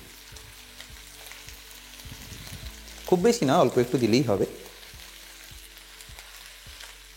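Onion and spices frying and being stirred in a pan while making Bengali chicken khichdi, a loud sizzling burst in the middle with someone talking over it before and after.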